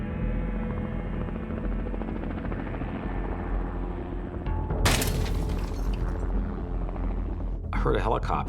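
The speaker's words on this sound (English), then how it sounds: "heard a helicopter." A tourist helicopter's steady rotor drone fills the background throughout, over the Kilauea lava fields after dark, with a brief loud crackling burst midway and people talking over it.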